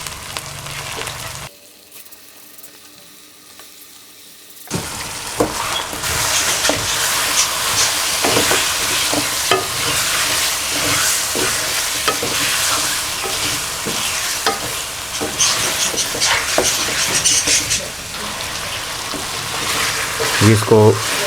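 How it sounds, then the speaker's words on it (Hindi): A kilogram of washed chicken frying in a pan for chicken curry with peas, a loud crackling sizzle bursting in after a brief quiet stretch, with stirring scrapes and clacks continuing throughout. "ये इसको फ्राई करेंगे थोड़ा थोड़ा इस तरीके से, साथ में हिलाते जाएंगे।"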